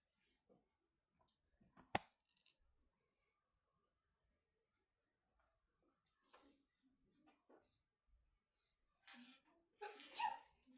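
A single sharp sneeze bursts out near the two-second mark in a quiet room during a calculus class on rates of change, followed by scattered faint voices and some louder talk toward the end.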